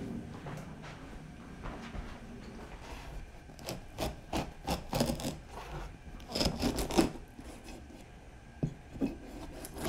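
A knife saws and scrapes through the top of a fresh pumpkin in a close, quiet ASMR kitchen setting, giving rough rasping strokes and scattered crisp snaps that grow denser midway, with no talking.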